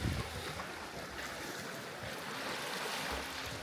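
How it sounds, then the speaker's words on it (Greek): The sea at Skopelos, Greece, a soft steady wash of waves and open-air wind noise that stays faint and even throughout, with no talking. "τον καλύτερο ήχο, τον ήχο της θάλασσας"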